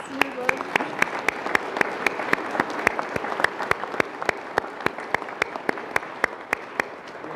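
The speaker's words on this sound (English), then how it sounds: "give yourselves a round of applause, please." A graduation ceremony audience applauds steadily, dense clapping with sharp individual claps standing out, continuous for several seconds.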